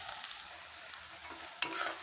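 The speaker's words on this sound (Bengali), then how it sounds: "পেঁয়াজটা আমার লাল করে ভাজা হয়ে গেছে।" Onions sizzle softly while frying in a pan for a Bengali country-chicken curry, with a sharp scrape of stirring near the end.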